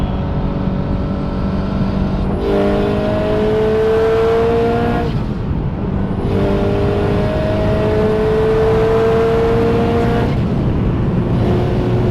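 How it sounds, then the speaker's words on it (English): A loud car engine making 452 horsepower runs steadily, rising in pitch as it revs, with turbo whooshes and whistles spooling up and dropping off in repeated cycles. "My favorite noise is the turbo."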